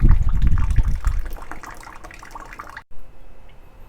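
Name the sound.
rusty fluid draining out of a car radiator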